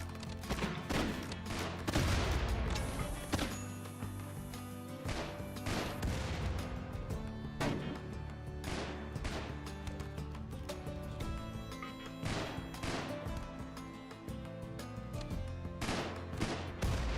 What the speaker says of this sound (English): Go, artillery, go.